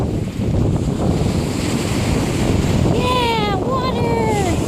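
Ocean waves wash steadily onto a beach as a continuous, loud surf roar with wind buffeting the microphone, while a bird chirps near the end.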